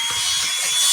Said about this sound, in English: I'm going to start drilling them.